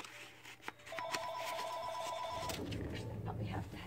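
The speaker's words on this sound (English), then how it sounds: "And there's my phone. I'm not going to answer it." A telephone rings in a repeating electronic trill for about a second and a half against quiet room noise, with faint background sound around it and a soft voice afterward.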